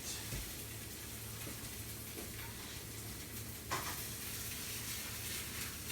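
Beaten eggs and ramen frying in a pan for a ramen frittata, a steady close sizzle with a few stirring scrapes and a brief louder crackle partway through.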